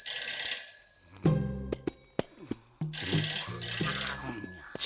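A telephone rings in a 2013 Malayalam film scene, a bright repeating electronic ring in bursts, interrupted by sharp knocks and clatter before the ringing resumes.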